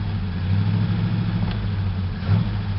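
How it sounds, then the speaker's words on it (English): A 1941 Ford with an 85 HP flathead V8 drives along under its own power, giving a steady, close low engine rumble with slight swells in revving and no talk over it. "Car moves under its own power."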